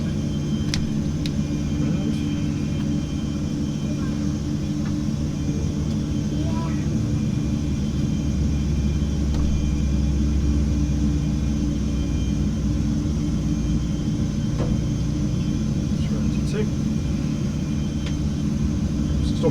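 A simulated aircraft engine number 1 spools up in a PC flight simulator, a steady low roar with rumble that holds throughout, while people talk intermittently over it.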